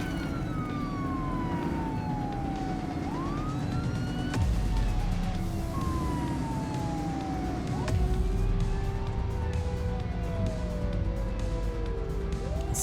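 A police car siren in The Precinct wails in long sweeping tones that rise and fall over steady engine and road rumble, switching pattern partway through, fairly loud with no talk.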